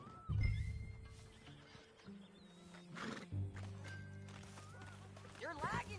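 A horse in Red Dead Redemption 2, a filly, gives a loud whinny with rising and falling calls, mixed with game ambience and mid-level hoof and body sounds. Voices talk at the same time.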